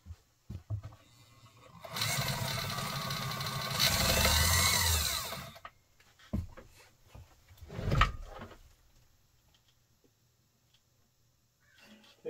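A Kenmore 158.480 sewing machine runs in one steady, fairly quiet whirring stretch of about four seconds, followed by a few clicks and handling thumps.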